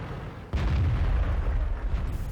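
A tank cannon fires in World of Tanks, aimed at the flat side of a WZ-111 on the Swamp map. A single loud, deep boom is followed by a rumbling tail that lasts under two seconds, with no talk.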